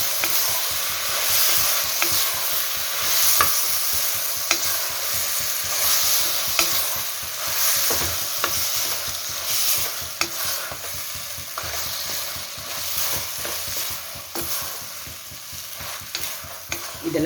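Brinjal and potato pieces frying in a pan while being stirred, a continuous oily sizzle broken by repeated scraping and clinking of the spatula against the pan.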